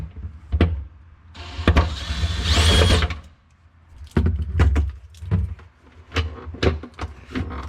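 Screws being backed out of the evaporator fan cover in a GE refrigerator with a cordless driver, a close whine in short bursts mixed with clicks and knocks, no one speaking.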